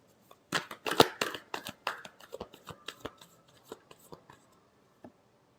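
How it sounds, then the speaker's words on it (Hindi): Tarot cards are shuffled by hand during a love reading, a quick burst of papery riffling and flicking close up that thins into scattered soft taps and slides, alone without speech. "last shuffle"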